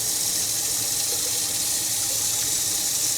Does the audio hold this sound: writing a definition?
no